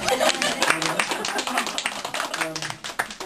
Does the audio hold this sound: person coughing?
no